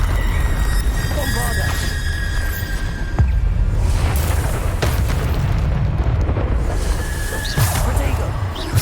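Repeated Bombarda spell explosions in Hogwarts Legacy, deep booming bursts with whooshing tails over a busy game soundscape, punctuated by sharp pops.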